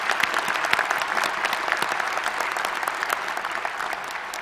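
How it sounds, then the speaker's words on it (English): An audience at a graduate studies commencement ceremony claps steadily, a dense even patter of many hands that stays at a constant level throughout. "Can we give everyone a round of applause?"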